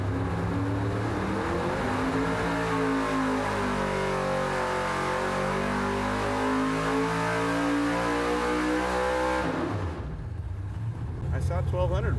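A high-horsepower naturally aspirated race engine, said to make about 1,200 hp with no turbo, nitrous or blower, screams loud and steady on a dyno pull for around nine seconds, then cuts off abruptly, leaving quieter sounds and brief voices at the end.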